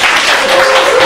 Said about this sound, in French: Je vais vous demander d'applaudir, si vous le voulez bien